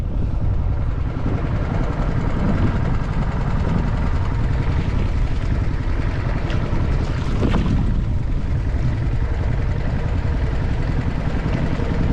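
Strong wind blows outdoors by a riverside village, a loud, steady rumbling roar buffeting the microphone throughout with no voices.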